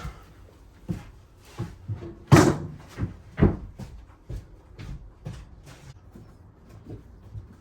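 Clamps going onto a glued wooden piece for a curved narrowboat galley, heard as a run of close, irregular wooden knocks and thunks, a few of them sharp and loud, with quiet gaps between.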